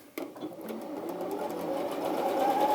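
A sewing machine runs steadily while stitching through a seam, a continuous whirring motor drone that builds slightly in loudness, with a brief clack at the start and no talk over it.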